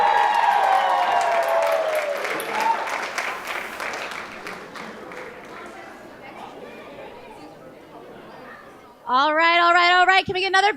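Audience applause for performers at a charity gala for children rises in a dense clatter, then thins out, with crowd chatter running through it and someone speaking near the end.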